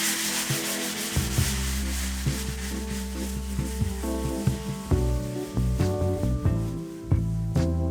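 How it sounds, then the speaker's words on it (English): Close, steady rubbing and scraping of sandpaper on a piece of wooden furniture, in short repeated strokes with a dry, gritty texture and no voices. "I'm just going to start sanding the other parts of this"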